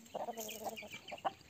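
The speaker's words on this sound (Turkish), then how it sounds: "Bakın tavuklarını çağırıyor" An Aseel rooster calls its hens with a quick series of soft, close clucks and short low vocal bursts in a quiet yard.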